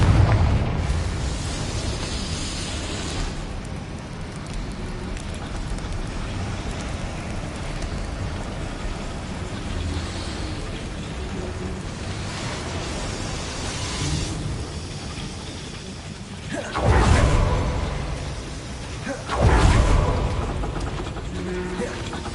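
Spell explosions in the Hogwarts Legacy video game, Bombarda and Confringo, sound as deep rumbling booms over a continuous roaring game soundscape, with two louder blasts near the end.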